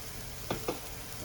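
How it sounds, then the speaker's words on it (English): Onions sizzle quietly in olive oil in a pan while cooking chicken adobo: a low, steady frying hiss with two brief louder bursts close together midway, and no voices. "Now we're going to put our onions in the pan with the olive oil."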